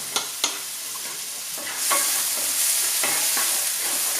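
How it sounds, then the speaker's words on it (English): Onions and garlic sweating in a pan: two sharp knocks of a stirring utensil come first, then a steady sizzle swells up and keeps going under further light stirring. "we're really just going to sweat both of those down. Give them a stir, make sure everything is coated"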